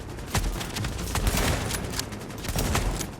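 Rapid gunfire from The Division video game, Mosin Nagant stress test, loud dense bursts of shots and impacts filling the whole stretch with no pauses and no talk.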